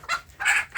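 Young free-range village chickens in a netted outdoor pen, about 3 by 4 metres, give two quick close clucks in a short burst with no talk.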